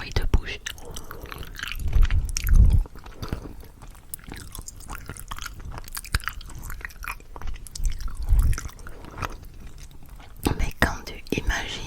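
Close-up ASMR mouth sounds of candy being chewed, with wet crunches and squishy bites in irregular bursts mixed with soft whispering.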